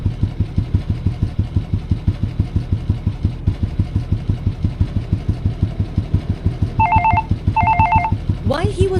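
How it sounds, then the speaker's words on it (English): A phone rings with an incoming call while a rider is on a motorbike in a road-safety scenario: two short bursts of trilling ring tone sound over a steady, pulsing idling engine. "his phone suddenly vibrated with a call"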